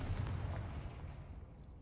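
A booming fiery Confringo spell blast from the Hogwarts Legacy video game hits with a heavy, rumbling burst that stays dense and low, then slowly fades over about two seconds, with no voices.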